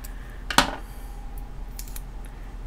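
A single sharp snip of dirty scissors cutting through sticker paper, near and fairly loud, followed by faint rustling in a quiet room.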